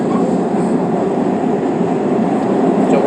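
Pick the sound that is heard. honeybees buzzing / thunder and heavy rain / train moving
train moving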